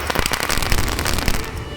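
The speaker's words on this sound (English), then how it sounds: "And I used a firecracker to simulate this." A firecracker goes off under a LEGO toy car in a dense, loud burst of crackling pops that runs nearly two seconds and stays close and continuous throughout.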